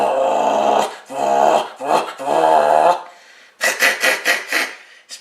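A small dog's throaty growls come in several bursts, followed by a quick series of sharper, higher yips and whines, close by.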